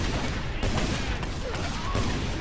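Rapid gunfire in Just Cause 2, a loud dense fusillade of overlapping shots and booms filling the whole brief moment without pause.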